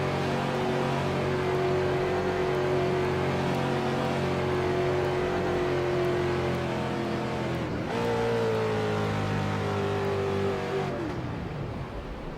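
A race car engine in a racing video game at Charlotte holds a loud, steady droning whine that dips sharply about two-thirds through, then resumes at a slightly higher pitch before tapering off.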